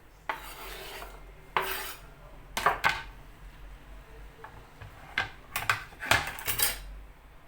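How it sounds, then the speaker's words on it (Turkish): A knife dices tomatoes on a cutting board in short, irregular bursts of strokes, close up and fairly quiet, with no voices. "domatesleri de böyle küp küp doğru doğrayarak"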